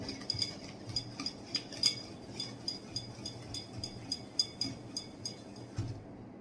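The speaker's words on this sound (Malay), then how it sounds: "Tu sebabnya kita kena pakai whisk." Rapid, rhythmic clinking of a whisk against a bowl as pancake batter is mixed by hand, steady strokes close by and fairly quiet, stopping near the end.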